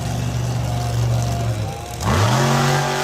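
A monster truck engine revs hard during a freestyle run at an arena show in Miami, Oklahoma, climbing, dipping briefly, then surging again to a loud, close roar.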